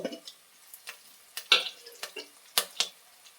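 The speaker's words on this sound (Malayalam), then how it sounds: "ഇത് നന്നായിട്ടൊന്ന് നമുക്കൊന്ന് ഫ്രൈ ചെയ്തെടുക്കണം" Green chilli frying in a pan with a spoon stirring, quick clinks and scrapes in an irregular rhythm over a faint sizzle, close and fairly quiet.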